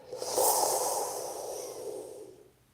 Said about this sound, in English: curling the tongue or letting the teeth touch, breathing in through the mouth